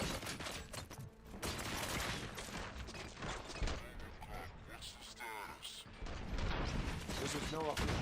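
Gunfire erupts in the RoboCop: Rogue City video game, a dense fusillade of shots and clattering impacts running steadily under game voices and mechanical noise throughout.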